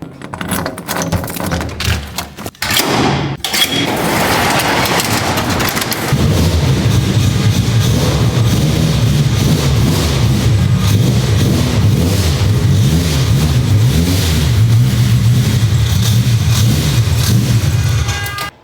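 A 1985 car's built engine with a Rotrex C38R supercharger and Fuel Tech 550 cranks roughly on a low battery, catches, then settles into a loud, steady, lumpy idle with revving, close and alone.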